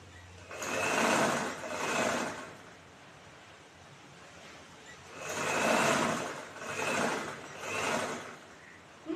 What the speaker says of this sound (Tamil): எல்லா பீஸும் சேர்த்து வச்சு 1/4 இன்ச் அளவுக்கு தைச்சிக்கலாம்